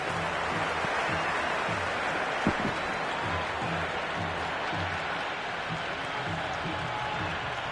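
Steady roar of a big stadium crowd cheering and applauding after a four is struck in a cricket video game, a dense continuous wash with one brief sharp knock near the middle.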